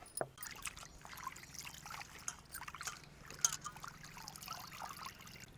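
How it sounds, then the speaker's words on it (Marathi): Curry leaves being rinsed in water, with a continuous close trickling and splashing as the leaves are swished and handled, and no talking. "आपण एका पाण्याने धुवून घेणार आहेत"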